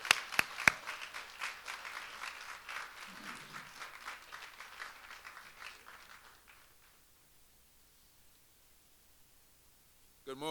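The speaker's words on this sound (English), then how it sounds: "let's give him a Newark round of applause as we welcome Junius Williams" Applause from an audience welcoming Junius Williams to the stage at a Martin Luther King celebration at Essex County College, steady and moderately distant, fading out over several seconds into near silence.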